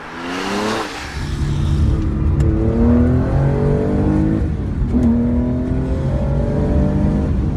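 A Porsche 911R sports car engine revs and rasps close by, rising in pitch through the gears with a raspy, throaty growl and a steady loud drone.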